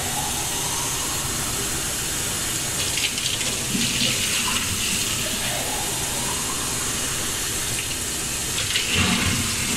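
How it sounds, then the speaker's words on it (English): Water runs steadily from a kitchen faucet while a cup is washed, a close, continuous rushing hiss with slight changes as the stream hits the cup, heard alone for about ten seconds. "I'll turn on the faucet."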